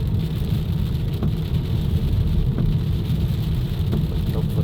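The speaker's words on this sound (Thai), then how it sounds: "ฝนตก" Steady heavy rain hisses loudly and evenly on surfaces, with a few faint sharp knocks among the constant downpour.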